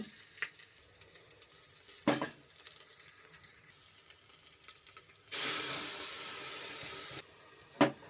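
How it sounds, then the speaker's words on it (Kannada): Mustard seeds, curry leaves and onion frying in oil make a faint crackle with occasional stirring clicks, then a louder burst of sizzle and hiss for a couple of seconds before settling back. "ಇದಕ್ಕೆ ಸ್ವಲ್ಪ ಕರಿಬೇವು ಮತ್ತು ಒಂದು ಹೆಚ್ಚಿಟ್ಕೊಂತ ಒಂದು ಈರುಳ್ಳಿನ ಸೇರಿಸ್ಕೊಂಡು ಒಂದು ಸಲ ಫ್ರೈ ಮಾಡ್ಕೊಳ್ತಾ ಇದ್ದೀನಿ"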